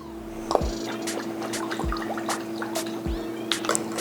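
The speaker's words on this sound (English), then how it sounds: "A couple dashes, again, of your favorite hot sauce." A few dashes of Crystal hot sauce go into jalapeño cheddar grits, with three soft bottle thumps and light liquid drips and splashes, close and fairly quiet.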